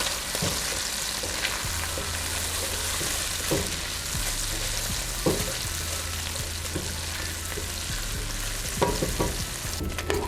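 Bacon crisps in its own rendered fat in a pot, the first step of a catfish stew. A continuous dense sizzle with scattered pops and stirring scrapes sits over a low steady hum.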